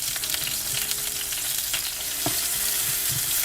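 Eggplants fry in a pan with a steady, fairly quiet crackling sizzle, broken by a few soft stirring knocks and no speech.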